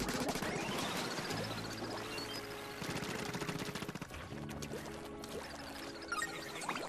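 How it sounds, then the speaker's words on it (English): Rapid bursts of light minigun fire in Splatoon 2 Octo Expansion, a dense rattling stream mixed with game music and splashy effects, fairly quiet throughout. "I quite like this little minigun. It's just like almost a light minigun."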